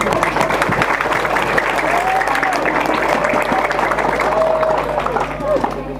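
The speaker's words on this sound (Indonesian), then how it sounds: "kita kasih aplaus untuk panitia malam hari ini" Audience applause for the organizing committee at an evening Eid al-Adha 1442 H opening gathering, a steady wash of many hands clapping for about six seconds, fairly loud, with crowd murmur underneath.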